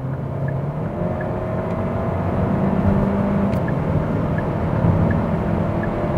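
A 2020 Hyundai Sonata with a 1.6-liter turbo engine accelerating, a steady rising engine drone and road roar heard from inside the cabin, with no talking.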